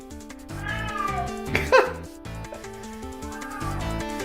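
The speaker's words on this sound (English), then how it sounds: "Cat is literally saying hello." A cat meows in a short rising-and-falling call near the midpoint, loud and close, set against steady background music with no talk.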